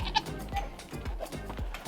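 Nigerian Dwarf goats bleat again and again at close range on a farm, with overlapping calls and a little background noise.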